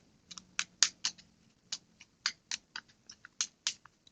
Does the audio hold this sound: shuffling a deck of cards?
yes